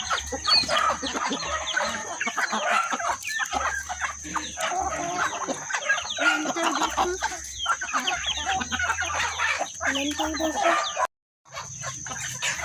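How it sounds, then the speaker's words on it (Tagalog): Many chickens cluck and squawk busily close by, with occasional rooster crowing, a dense continuous flock chorus. "Daghan kayong manok."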